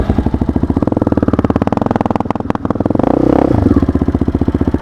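A 2004 Yamaha Raptor 660R ATV engine runs close by with a steady throbbing idle, dips briefly with a clunk as the gear changes, then its revs swell before settling again.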